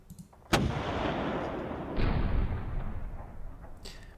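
A twelve-gun artillery battery fires in the Panzer Battles North Africa 1941 war game. A sharp blast opens into a long roaring rumble, followed by a second swell of booming that slowly fades.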